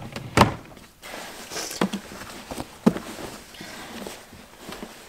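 A drawer is pulled open and rummaged through in a bedroom, giving a few sharp knocks and clatters between softer shuffling and rustling, close by and moderately loud.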